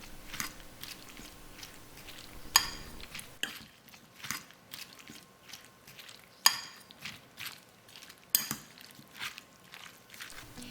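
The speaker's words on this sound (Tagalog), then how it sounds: "ay hahaluin natin siya." Utensils clink and scrape against a bowl while eggplant kinilaw dressed with vinegar is mixed, with soft, irregular taps and a few sharper knocks spread through a quiet kitchen.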